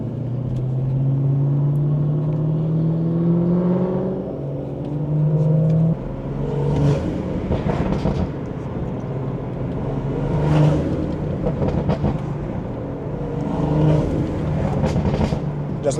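A BMW 340i with the B58 engine accelerates on a drive, its engine note rising and falling in repeated pulls, loud and close, with a few short bursts of voices over the roar.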